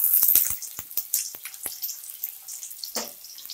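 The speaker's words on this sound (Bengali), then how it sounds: "পেঁয়াজটা একটু ভালো করে ভেজে নেব।" Chopped onion drops into hot oil, setting off a burst of sharp crackles and spatters up close that thin out into scattered pops.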